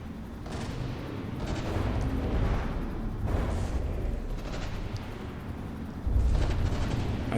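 Ship explosions and heavy gunfire in a battleship tournament in a From the Depths-style naval combat game, rumbling blasts and booms piling into a continuous loud din.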